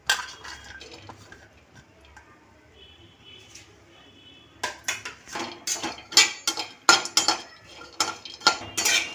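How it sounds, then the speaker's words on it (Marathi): Dried coconut roasting in a dry pan, quiet at first, then a run of sharp metallic scrapes and clinks as a spoon stirs it against the pan, loud and irregular toward the end. "आता आपण हे सुकं खोबरं भाजून घेणार आहे"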